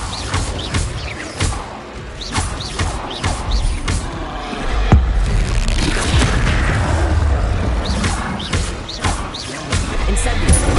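Rapid Incendio and Expelliarmus spell casts in Hogwarts Legacy combat, a steady string of sharp whooshing bursts and booming impacts, loud and close, with thuds and clatter between them over a busy fight.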